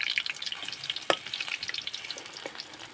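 Chicken frying in a pan gives a steady crackling sizzle with scattered pops and a few sharper spatters, moderately close and fairly quiet, with no voices.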